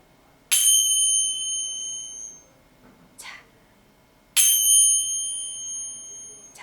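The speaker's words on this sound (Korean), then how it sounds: "그러면 심벌즈처럼 한번 쳐볼까요?" Finger cymbals struck together twice, each strike a bright ringing chime that lingers and slowly decays, with a softer brushing metallic sound between them in a quiet room.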